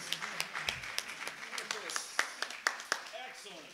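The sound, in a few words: applause for the percussion section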